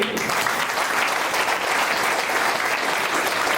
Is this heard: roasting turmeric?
no